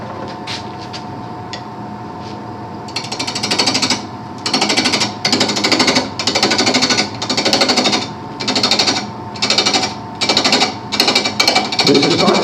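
A wood lathe spinning at 700 RPM turns a multi-axis candlestick, its off-center workpiece giving rhythmic, loud, rattling pulses of cutting in regular bursts over a steady motor hum.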